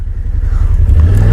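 A Yamaha Wolverine X2 XTR side-by-side climbs an obstacle in four-wheel drive, giving a loud, close, low engine rumble that swells briefly as it pulls up.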